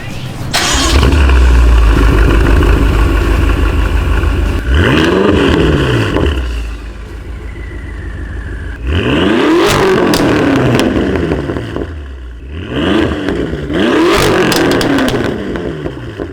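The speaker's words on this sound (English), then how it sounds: "start the car and hear those beautiful straight piped revs with this twin turbo V8 from this M5" A BMW M5 with a twin-turbo V8 and straight pipes fires up loud and close. It settles into a rumbling idle, then rips through several sharp, aggressive revs separated by brief dips.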